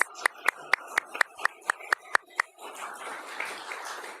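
An audience at an evening panel discussion applauds the panelists with a steady run of crisp, evenly spaced claps that give way to a softer spread of clapping and room murmur.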